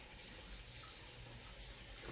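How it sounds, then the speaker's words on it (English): Water runs steadily from a kitchen tap, a soft continuous hiss and splash that stays faint and unchanging. "I'm going to turn that water off real quick."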